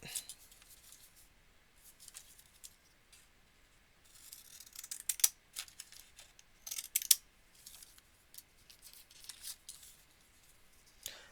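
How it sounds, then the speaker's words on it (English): Decorative scissors snipping through paper for card making in short, scattered bursts, close and fairly quiet, with gaps between the cuts. "And then we'll use our decorative scissors."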